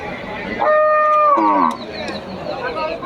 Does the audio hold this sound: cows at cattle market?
yes